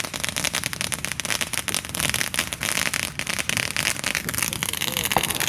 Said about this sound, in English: there's so much fireworks going off at once.